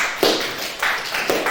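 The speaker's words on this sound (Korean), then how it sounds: "같이 큰 박수로 한번 하겠습니다." A church youth congregation claps for students in a room, with a few distinct waves of claps arriving about half a second apart. The sound is moderately loud and a little muffled.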